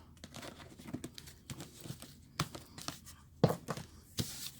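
A deck of tarot cards being cut and shuffled by hand, quiet papery riffles, slaps and crinkles at an irregular rhythm, close up.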